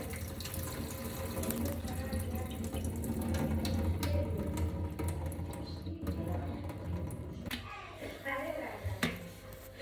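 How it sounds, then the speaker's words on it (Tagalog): Water pours and splashes steadily into a sink as a pot is drained, with a few metallic clinks near the end. "i-drain natin yung tubig"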